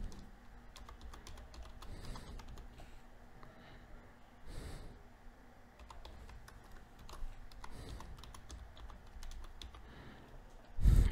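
Computer keyboard being typed on in quiet bursts of light, irregular key clicks, with soft breathing and a snort in between.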